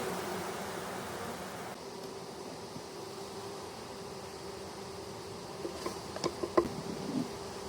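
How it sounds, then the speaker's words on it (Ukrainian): A honeybee swarm moves into a hive at nightfall, making a soft, steady insect hum under faint background hiss. A few light taps come near the end, and no one speaks. "Опускається вже ніч, рій зайшов, заходить."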